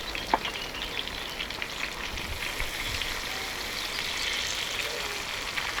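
Water is poured over a sizzling saj kebab of pork and chicken with potatoes cooking over a campfire, producing a continuous close sizzle and spatter that swells slightly toward the end, with no voices.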